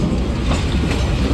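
Loud, steady rumble of a train rolling along street tracks close by on Hanoi's Train Street in Vietnam, with continuous clatter of wheels on rails filling the whole moment.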